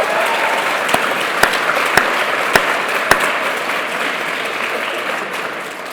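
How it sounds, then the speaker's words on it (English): Steady, loud audience applause at a teachers' summer institute opening ceremony, a dense wash of clapping with a few sharper individual claps standing out, holding evenly throughout. "which is a wonderful achievement and deserves another round of applause"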